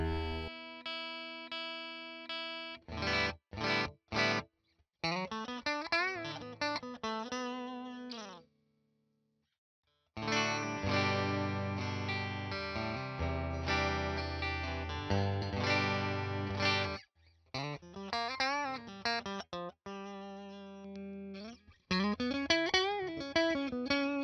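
A cheap single-coil electric guitar with inexpensive strings runs through effects, giving distorted, chorused and echoing tones. Chords, sliding runs and bends come in bursts with a few short gaps, fairly quiet overall and with no talking.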